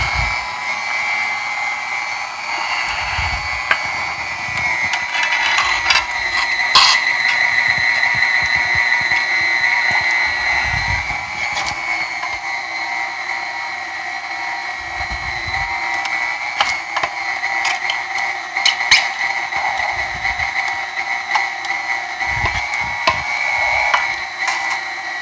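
A hand-cranked meat grinder works through four pounds of homemade sausage meat, giving a steady mechanical grinding and squeaking with repeated ratcheting clicks. The sound stays close, fairly loud and continuous for the whole stretch, and nobody speaks.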